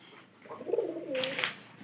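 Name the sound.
pigeon cooing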